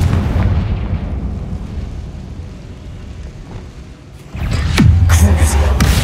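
A Confringo fire spell blasts in Hogwarts Legacy, with a loud rumbling roar that eases off before a fresh, sharper burst of crackling impacts and a booming low thud near the end.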